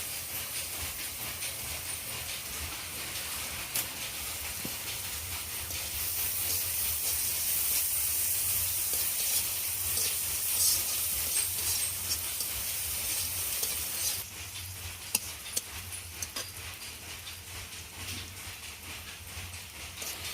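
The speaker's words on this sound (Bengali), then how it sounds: "এখন আমি যে ভাজানোর জন্য পেঁয়াজ কেটে রাখছিলাম, এই ভাজনাটা এখন ভাজে নেব" Chopped onions fry in hot oil in a wok for a Bengali tilapia and potato fish curry, giving a steady hiss and sizzle that swells midway, with scattered faint stirring clicks and no talk.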